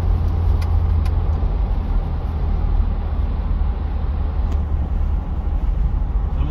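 Toyota Fortuner diesel from 2014 accelerating from 100 to 120 km/h, a steady loud low engine and road rumble heard from inside the cabin, without talk.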